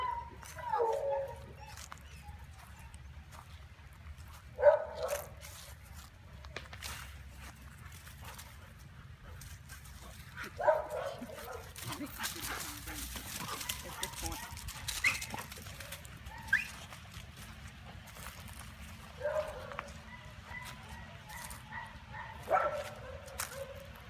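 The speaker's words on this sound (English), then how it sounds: "This is Mickey, the black and white dog, and a female dog named Dancer" Two dogs, Mickey, a black and white dog, and Dancer, a female, bark in short scattered bursts, a few loud and close, over a low steady rumble, with people talking between barks.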